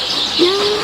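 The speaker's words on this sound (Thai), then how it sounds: "เอาบรรยากาศธรรมชาติเสียงนก" A bird calls in the morning countryside of rural northeastern Thailand, a single clear rising-then-level whistled note close by over a faint background hiss, with no talking.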